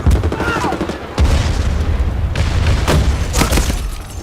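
Loud booming bomb blasts and crackling gunfire in the video game Medal of Honor, a busy, dense battle soundscape, with several sharp bursts following one another.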